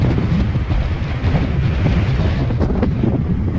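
Strong wind roaring steadily into the microphone, a constant loud rumbling buffet with no voices.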